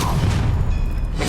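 An Incendio fire spell cast in Hogwarts Legacy, a loud low whooshing burst of flame with a rumbling roar that stays dense throughout the short moment, with no clear talk over it.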